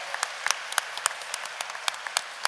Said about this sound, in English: But I would like to give a round of applause to Raquel for her bravery.